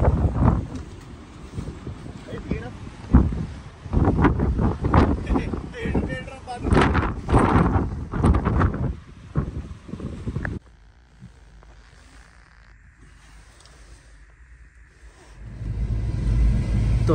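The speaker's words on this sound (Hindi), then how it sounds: "तगड़ी हवा चल रही है भाई, तगड़ी हवा।" Strong wind gusts buffet the microphone on a mountain road in Ladakh, loud and roaring for about ten seconds, then dropping to a low hush before rising again.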